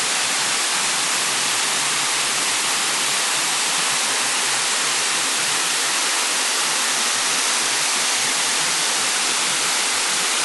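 Rushing river below a forest path, a dense, continuous roar of flowing water that holds steady and loud without pause, with no one speaking.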